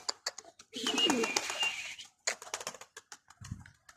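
Pigeons in a loft coo low and soft near the end, amid sharp clicks, rustling and a burst of fluttering wing noise, with a voice faintly in the background.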